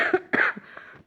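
Two sharp, harsh coughs from a man in quick succession, close and loud, trailing off into a brief rasp.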